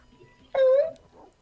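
A dog whimpering in the video game Beethoven's 2nd, a single short, high, whining cry, fairly loud and close, rising out of quiet game background noise.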